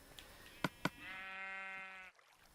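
A sheep in Minecraft gives a single drawn-out bleat, preceded by two quick clicks, fairly close and clear against quiet background.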